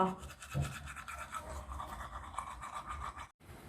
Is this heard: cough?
no